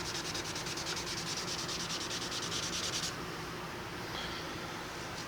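Leather dye rubbed by hand into a Telecaster guitar body, a steady close hiss of cloth rubbing over wood, rougher and brighter for the first three seconds, then softer and smoother, with no talking.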